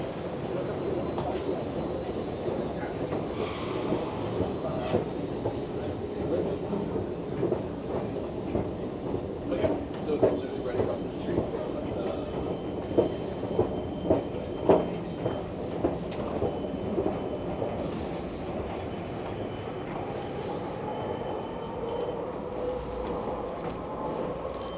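A SkyTrain train in a downtown Vancouver station, heard as a rumbling, rolling roar with rhythmic clacking that builds in the middle and then eases off, moderately distant, with faint voices around.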